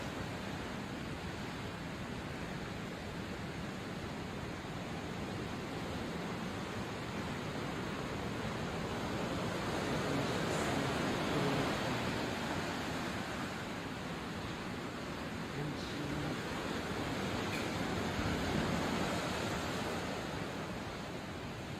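Ocean waves rolling in as a broad, continuous wash of surf, fairly faint and steady, swelling slightly now and then, with no voices.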